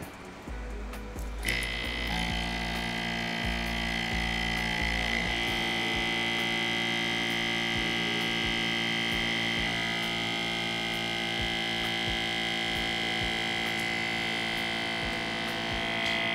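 A vacuum pump on an ethanol recovery extractor starts up and runs with a steady, loud electrical hum and whine that holds constant throughout, with no talking.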